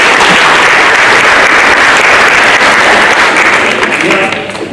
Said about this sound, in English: Why don't we give them a hard applause?